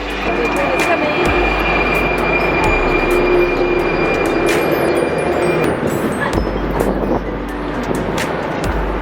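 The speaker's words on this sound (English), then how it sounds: "The train is coming." A loud rumbling metro train rolls steadily into a station in Prague, heavy low roar with clanks and squeals, continuous and close throughout.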